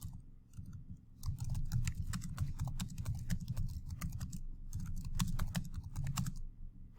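Steady typing on a computer keyboard, dense close clicking of keys in quick bursts with a brief pause near the middle, under a low background hum and no speech.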